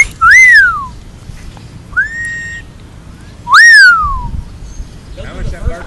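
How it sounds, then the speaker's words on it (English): A pet bird whistles loud, clear rising-then-falling notes, three separate calls spaced a few seconds apart, with a faint voice and room noise between them. "the bird started whistling"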